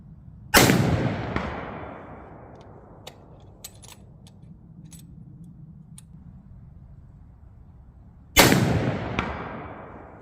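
Two loud rifle shots from a scoped rifle fired outdoors at steel targets, each a sharp blast with a long echoing decay, several seconds apart, with faint ticks in between.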